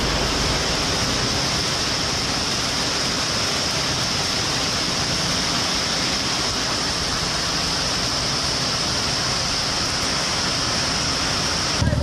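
Steady rain falling during a motorcycle riders' club meet-up in Kanyakumari District, a dense, even hiss that runs on without a break for the whole stretch.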